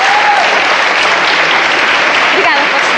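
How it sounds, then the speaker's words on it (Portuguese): A lecture audience of students applauds a classmate during a chemistry class on the candle, a loud, even burst of clapping that carries on throughout, with a faint voice briefly audible beneath it. "só um aplauso para o vosso colega"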